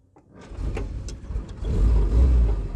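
Vintage Willys jeep being started before an off-road climb up a steep path in Somerset: a brief click and starter churn swell into a rough, rumbling idle that grows louder and steadier, close by with no talking.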